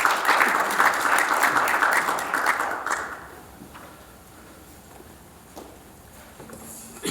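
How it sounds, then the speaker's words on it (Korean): Applause from an audience welcoming a new board chairman at an inauguration thanksgiving service, a dense burst of clapping lasting about three seconds, then fading into quiet room noise with a few scattered claps. "여러분 박수로 좀 맞이해 주시면 감사하겠습니다."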